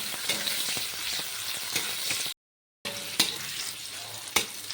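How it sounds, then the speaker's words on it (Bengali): Chopped onion frying in hot oil, a dense, steady sizzle with occasional stirring clicks, close and moderately loud, broken by a short gap of silence midway. "কুচি করে রাখা একটা গোটা পেঁয়াজ আমি তেলে দিয়ে দেবো পেঁয়াজটাকে কিছুক্ষণ নেড়ে চেড়ে ভেজে নেব"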